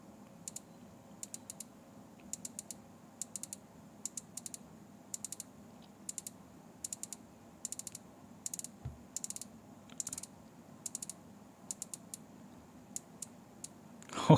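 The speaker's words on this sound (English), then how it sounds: "let's turn the bezel, and let me just shut up for you guys to listen" The 60-click bezel of a Tudor Black Bay 58 watch turns in a long series of crisp, close ratcheting clicks in quick bursts with short pauses between them, ending with a louder knock.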